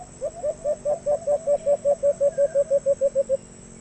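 A sunsun decoy bird used in an alimokon (dove) hunt gives a rapid, evenly spaced series of about fifteen short whistled coos, clear and close, in a quiet outdoor setting.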